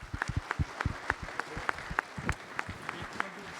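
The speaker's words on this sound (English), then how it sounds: "If we could give them a round of applause, please." Audience applause for panelists at the close of a conference session on weapons and munitions at an air, space and cyber conference, with distinct sharp claps from a modest crowd over about four seconds.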